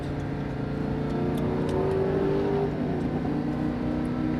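A Lamborghini Huracan accelerating on a race track, its engine a steady, loud drone that rises in pitch as the throttle is squeezed, heard from inside the car with no speech.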